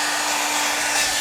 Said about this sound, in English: let's look at that old hair dryer